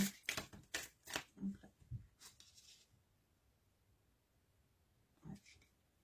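Tarot cards are shuffled and drawn during a reading: a quick run of soft riffling, papery flicks in the first two seconds, a brief swish later, then near silence before one last card snap, all close and quiet.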